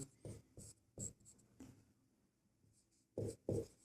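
A pen scratches across paper close to the mic while a math solution is written out, in short separate bursts of strokes with quiet pauses between them.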